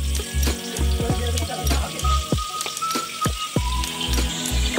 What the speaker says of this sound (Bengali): মাছগুলোকে হালকা করে ভাজা করতে হবে, বেশি ভাজা করলে হবে না।